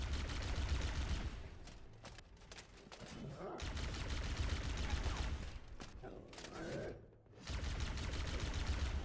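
Plasma rifle fire in Halo: Combat Evolved: long rapid bursts of dense crackling energy shots, loud and near, broken by short pauses, with other battle noises mixed in.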